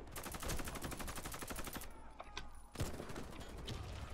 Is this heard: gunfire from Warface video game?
yes